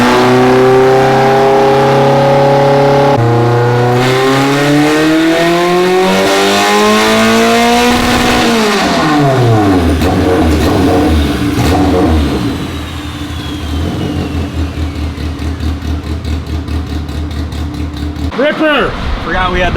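A 450whp Honda K20 with a Pro 163 head, no turbo or supercharger, running a 200 shot of nitrous, revs hard through rising engine sweeps, then settles into a loud rough idle with some burbling, very close and loud throughout.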